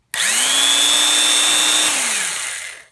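A power drill spins a mounted wire brush at a high 2,000 RPM, a loud steady whine that starts abruptly, holds a constant pitch, then winds down as the motor slows.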